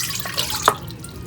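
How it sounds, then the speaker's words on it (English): A cup of warm water poured into a KitchenAid stand mixer bowl for dough, heard as a brief close splash and trickle that swells and quickly fades, with no voices. "I'm going to add in a cup of warm water"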